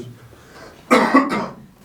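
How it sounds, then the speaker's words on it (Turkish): A single close, harsh cough in two quick bursts, loud after a quiet moment. "Öksürmem lazım. Öksür."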